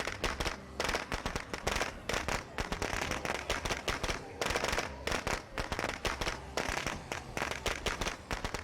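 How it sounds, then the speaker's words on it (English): Firecrackers thrown and exploding in State of Decay 2, a dense, continuous crackle of rapid pops and bangs that fills the whole stretch, loud and close. "then we're going to throw our firecrackers"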